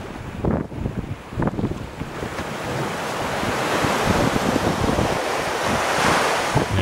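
Surf and wind on the Luderitz coast of Namibia: a steady roar of breaking ocean waves that swells louder over the seconds, with gusty wind buffeting the microphone and no voices.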